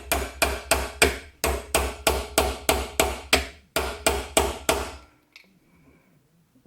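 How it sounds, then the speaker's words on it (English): A small center punch is struck with a hammer to tap a pin into a Lawn-Boy capstan drive roller, giving about fourteen sharp, evenly spaced metallic blows close by before stopping. "take a little center punch or something and just tap it in so it's just a little bit below the surface"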